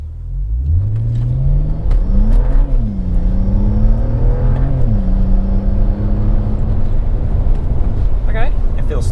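A BMW 335i N54 engine with a hybrid turbo revs up and climbs in pitch, with a rising turbo spool whine over a loud rumbling drone and a voice briefly heard near the end.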